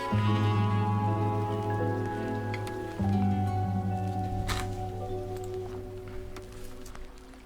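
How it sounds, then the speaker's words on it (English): Splashing water sounds close out a hip-hop song, with wet splashes and drips over sustained musical tones that gradually fade. "previous song ended with the splashing sounds."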